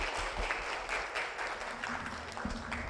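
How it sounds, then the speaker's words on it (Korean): An audience claps after a lecture at a Seoul fashion conference, producing thick, even applause that carries on at full strength from start to finish. "여러분 다시 한번 박수 부탁드리겠습니다"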